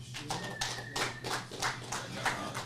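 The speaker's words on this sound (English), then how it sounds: "That's right, they deserve that applause" At a post-event bare-knuckle fighting press conference, a small crowd gives scattered, light applause for two fighters, a sparse patter of claps over a steady room hum, some individual claps standing out, moderately distant.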